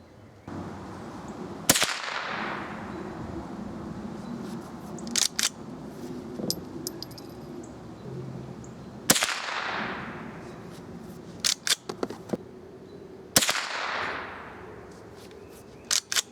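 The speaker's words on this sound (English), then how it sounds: "let's shoot 5 more rounds" Three sharp, loud CCI Blazer .22 rifle shots ring out several seconds apart outdoors, each with a decaying crack, with quieter clicks and handling noises in between.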